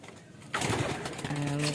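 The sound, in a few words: blue bar racing pigeon arriving, cooing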